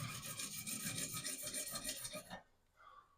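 A 32-tooth saw blade finishes its cut during a toilet and shower installation, giving a steady close rasping, grinding buzz that stops abruptly near the end, followed by quiet room tone.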